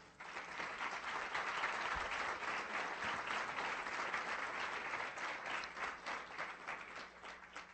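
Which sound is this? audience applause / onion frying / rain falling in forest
audience applause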